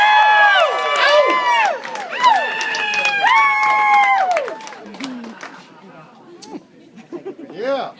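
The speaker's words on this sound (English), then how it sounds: "let's give a big round of applause for Matthew and Nina" Wedding guests cheer and applaud for the couple during a best man's speech, with loud whoops and shouts over clapping that fade out toward the end while people talk.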